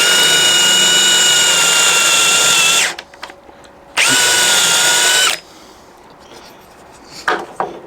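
Power drill boring a hole while building cellar pull-out cabinets, two loud whining bursts, the first about three seconds and the second shorter, separated and followed by quieter handling noises.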